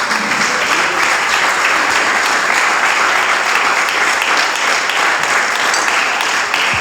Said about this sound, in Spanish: ¿Le da palmas a usted a Cristo?